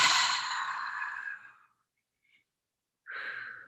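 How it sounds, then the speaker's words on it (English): A long, soft exhale of breath during a guided relaxation exercise, a breathy hiss that fades out over about a second and a half, followed by silence and then the start of another breath. "And then exhale."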